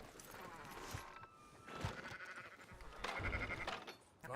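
Sheep bleating repeatedly in Red Dead Redemption 2 over a busy, noisy background, the calls rising and falling at moderate distance.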